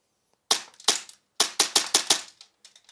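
Rapid fire from a Tokyo Marui P320 airsoft pistol: a lone crack, then a second, then a fast string of about six sharp snapping shots, with a few fainter clicks trailing off, close and loud.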